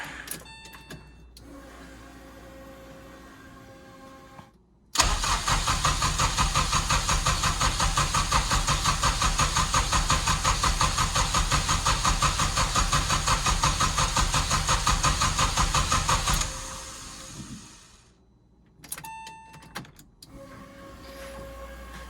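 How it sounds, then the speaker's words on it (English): A K-swapped Porsche 996 engine with the spark disconnected cranks over on the starter, a long loud steady whirring churn lasting about twelve seconds, then stopping, with quieter brief cranking attempts before and after. "So we'll just give it a few more cranks."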